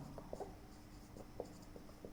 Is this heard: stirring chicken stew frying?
no